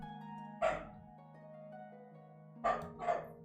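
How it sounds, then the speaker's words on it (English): A dog barks in the background during a game development session, one sharp bark followed by a pair of barks about half a second apart, heard over a steady low hum. "Yeah, you can hear the dog."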